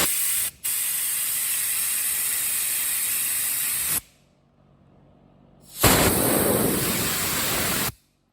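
Aerosol cleaner sprayed into a 2006 Suzuki RMZ250 carburetor, two long steady hissing bursts close to the can separated by a short pause, with a brief break early in the first burst.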